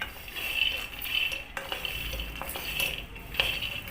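Peanuts are dry-roasted in a pan and stirred continuously, a faint, steady rustle and scrape of nuts against metal with occasional light clinks of the spoon.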